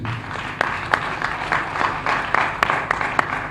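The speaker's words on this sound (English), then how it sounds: "a round of applause for the PG" Audience applause after a call for a round of applause at a formal event, a steady wash of clapping with scattered sharper claps standing out, moderately loud and continuous throughout.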